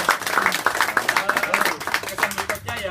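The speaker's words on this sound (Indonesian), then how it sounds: "Saya minta tolong tepuk tangan buat beliau." A crowd claps for an honoree at a gathering, rapid dense applause running steadily throughout, close and fairly loud.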